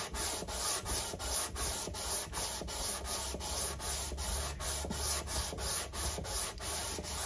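Repeated back-and-forth strokes of 400 grit abrasive smoothing the frets of a Washburn acoustic guitar during a refret, a regular rasping rhythm of about two strokes per second, close and steady.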